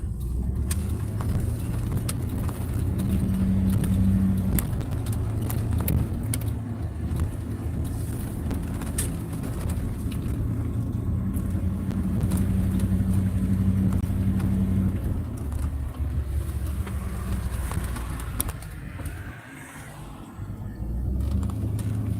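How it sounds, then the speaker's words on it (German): A van pulls into a parking lot on the road between Česká Lípa and Rumburk, its engine droning steadily with constant road and wind noise and no talk over it. "Jetzt fahre ich ja hier auf den Parkplatz rein."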